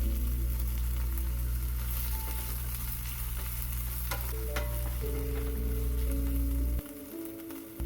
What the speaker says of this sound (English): I'm going to saute the red onion first